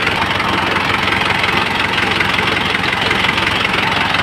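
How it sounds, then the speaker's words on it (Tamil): A 2005 Chevrolet Tavera LS diesel with about 170,000 km idles with the air conditioning running, a loud, close, steady clatter and hum throughout with no voices. "இன்ஜின் ஆனில் இருக்குது, ஏசியும் போட்டிருக்கேன்."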